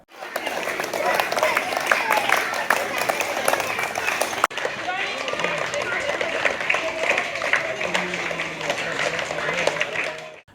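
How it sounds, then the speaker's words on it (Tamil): Senior students at a primary school in Paramakudi, Ramanathapuram district, clap to welcome new pupils: dense, continuous applause from many hands, up close, with a voice talking over it. "புதிதாக சேர்க்கைக்கு வந்த மாணவர்களை கைத்தட்டியும் சிலம்பும் சுழற்றியும் சீனியர் மாணவர்கள் வரவேற்பு அளித்தனர்"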